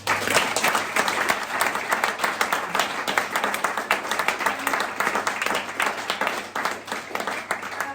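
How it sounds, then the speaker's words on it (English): Warm audience applause at a women's sport panel event, a steady roomful of clapping hands at even loudness throughout, with faint crowd murmur beneath. "Big round of applause."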